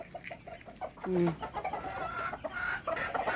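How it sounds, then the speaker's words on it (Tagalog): A chicken clucks close by while being fed, with a short run of soft clucks and a brief louder call, and people speak nearby. "Pakainin mo na, eat, chicken, eat."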